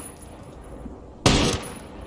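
Gunfire from the Ghost Recon Breakpoint video game near a weapons convoy: a single loud, sharp burst of shots erupts partway through after quieter game ambience, then fades back down.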